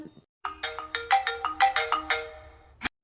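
A phone ringtone rings late at night, a repeating electronic melody of bright tonal notes, fairly close and clear, with no talking over it.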